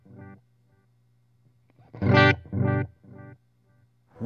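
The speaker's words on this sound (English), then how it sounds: "So all the way up is the sound we're used to getting from an analog delay pedal." Electric guitar through a Walrus Audio Bellwether analog delay pedal with the tone knob fully up, a few notes and a chord followed by fading echoing repeats, warm and sustained, with no talking.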